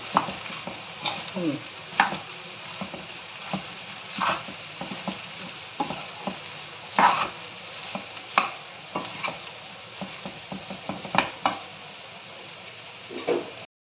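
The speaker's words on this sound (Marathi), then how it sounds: "असे हलवायचे ते दोन्ही मिक्स करून" Spoon stirring and mixing sabudana khichdi in a pan, a string of soft scraping taps against the metal over a faint sizzle, steady and close with no talking.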